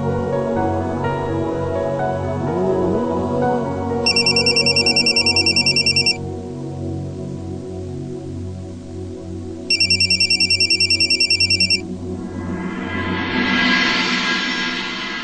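A phone ringtone plays two loud electronic bursts of about two seconds each, a few seconds apart, over soft background music, with no one speaking.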